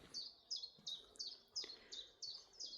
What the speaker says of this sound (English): Can you identify the birds I've been hearing?